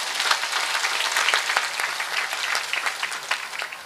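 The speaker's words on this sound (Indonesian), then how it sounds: "tepuk tangan dulu dong" Steady, dense applause from an audience at an Islamic religious gathering, many hands clapping together fairly close and loud throughout, with no voices rising above it.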